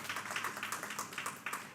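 Church congregation applauding, a steady, moderately quiet patter of many hands clapping at a fairly even rhythm throughout.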